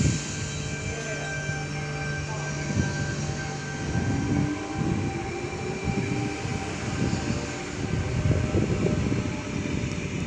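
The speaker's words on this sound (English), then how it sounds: "Bondi Junction service now departing platform number 3" A Bondi Junction train pulling out of platform 3 at a Sydney station, a steady rumbling roar with rising tonal whine as it departs, heard alone and moderately loud throughout.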